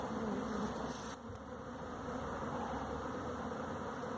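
A huge swarm of bees produces a dense, continuous buzzing drone up close, steady and loud throughout.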